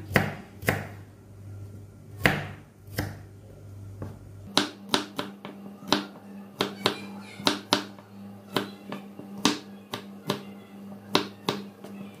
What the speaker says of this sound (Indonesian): Sekarang bawang merahnya kita potong tidak secara halus ya, seperti ini